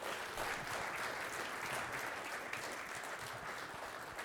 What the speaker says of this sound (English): So how about a really big round of applause for our B-Sides Edmonton volunteers who put this thing on